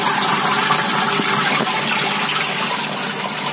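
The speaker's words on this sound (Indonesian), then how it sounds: "jadi airnya banyak gelembung udaranya di dalam" Water churning with many air bubbles in a hydroponic NFT venturi system, a continuous loud hiss and gush of aerated flow, steady and close with no talking.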